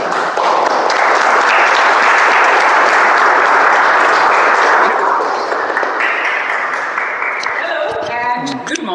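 Loud round of applause at a Toastmasters impromptu speaking workshop welcoming the speaker, sustained and dense before fading, followed by the start of speech.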